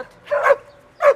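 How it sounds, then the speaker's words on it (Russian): Two short bursts of dog barking sound close by in a room, the first a doubled yelp and the second a single sharp bark after a brief pause. "Ну, не гавкайте."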